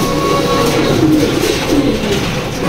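Close, continuous low cooing of pigeons at a pigeon loft, soft rolling calls overlapping against a steady background hum.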